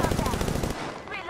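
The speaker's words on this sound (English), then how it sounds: "Somebody's shooting at me" Rapid automatic gunfire from an enemy in Apex Legends rattles off in a dense burst for about three quarters of a second, then cuts out, leaving quieter game ambience.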